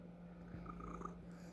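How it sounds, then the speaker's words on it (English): A domestic cat purring close by, a soft low continuous rumble with faint breathy snorts, quiet and alone without any talking. "and my cat's here"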